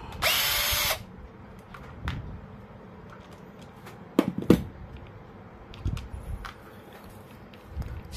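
DCK KDPL04-8i 12v impact driver unscrewing bolts during disassembly: one short loud whirring burst at the start, then quiet handling with scattered clicks and knocks of parts being set down.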